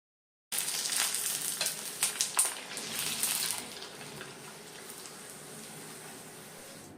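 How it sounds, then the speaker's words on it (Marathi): Crisp lentil papad wafers fry in hot oil with a sudden burst of loud, crackling sizzle that bubbles vigorously for a few seconds, then settles into a softer, steady hiss. "अशाच प्रकारच्या आता इथे मी 5 ते 6 पापड तळून घेत आहे। काही पापड तुम्हाला मी तळून दाखवते।"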